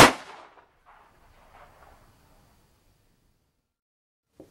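A metal desktop puzzle that converts into a small gun fires once with a sharp metallic crack, and a brief faint ringing decay follows in an otherwise quiet room. A small click comes near the end.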